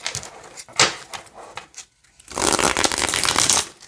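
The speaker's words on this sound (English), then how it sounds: "let's see how they shuffle" A Gothic tarot deck is shuffled by hand, first in a few short riffling bursts, then after a brief pause in a longer, louder run of crisp riffles close up.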